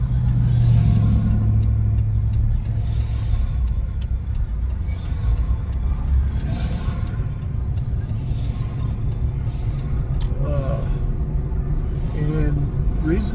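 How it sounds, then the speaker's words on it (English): Continuous low rumble of heavy road traffic close by, engines droning and vehicles passing, with occasional clicks and rattles. "Sorry about the loud traffic."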